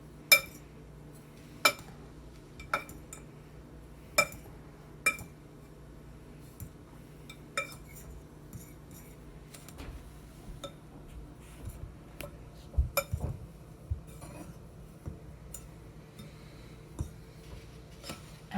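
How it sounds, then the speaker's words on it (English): Homemade laundry soap with borax stirred by hand, a utensil clinking against the container in a steady series of sharp taps and scrapes, close and fairly quiet, with no talking. "then we are going to stir up our laundry soap"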